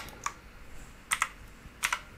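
Keys on a HAVIT KB393L mechanical RGB keyboard are pressed in a few sparse clusters of sharp clicky taps, close and distinct against a quiet background, with no speech.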